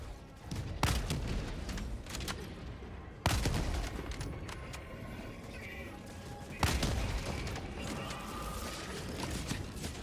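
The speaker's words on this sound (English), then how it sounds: "this is where the Gatling barrage is a little" Heavy gunfire booms from a Gatling barrage in the video game Helldivers 2, three strong blasts spaced several seconds apart over a dense rolling rattle of shots and explosions.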